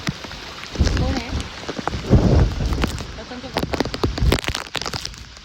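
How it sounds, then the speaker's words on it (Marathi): Steady heavy rain with gusting wind on Girnar during a cyclone, a continuous roar with sharper gust bursts and crackling, while a person speaks briefly. "कंटिन्यू पाऊस चालू आहे, थोडा कमी झाला आहे आता"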